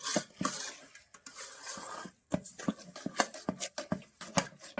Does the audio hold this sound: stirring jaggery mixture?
yes